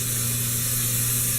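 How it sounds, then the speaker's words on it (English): Baker's Joy non-stick flour spray hisses from an aerosol can onto a baking pan in one steady, close, continuous burst. "use this Baker's Joy non-stick spray"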